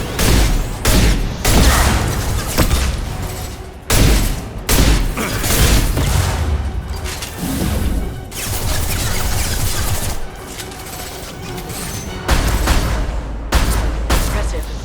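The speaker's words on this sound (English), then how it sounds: "Watch out, flashbangs!" Bursts of loud explosions and rapid gunfire in a Mass Effect 2 combat scene, with flashbang grenades going off. Blasts come in several heavy waves with brief gaps, and voices talk intermittently under the din.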